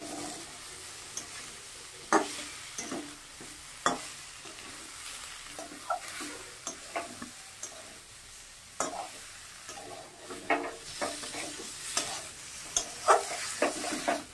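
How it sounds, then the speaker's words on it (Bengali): Cauliflower fries in oil spiced with turmeric and salt, a low sizzle broken by repeated sharp scrapes and knocks of a spoon stirring in the pan. "মশলাটা ভাজা হয়ে গেছে, আমি ফুলকপি দিয়ে দিচ্ছি।"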